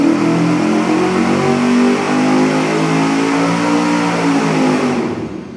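Engine on a dyno revving hard through a $40 louvered-tube muffler with open louvers facing the airflow, a loud, steady, close roar of sustained high revs that holds for several seconds and then drops away as the throttle closes.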